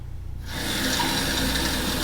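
Water from a tap gushes loudly into a bag of rice being filled for cooking, starting abruptly after a brief quiet moment and running as a steady, close rush.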